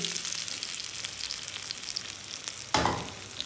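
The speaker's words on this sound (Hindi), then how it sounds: "ये मैं इस पैन में मैंने मक्खन डाल दिया था थोड़ा सा, और अभी मैं इसमें डालने लगी हूँ आलू" Boiled potatoes fry in a little butter in a pan with a soft, continuous sizzle, and a sharper burst of sizzling near the end as more goes in.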